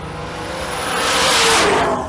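A drag racing car roars past on the strip at Twin Cities Raceway, a loud engine wash that swells to a peak and fades slightly, with no talking.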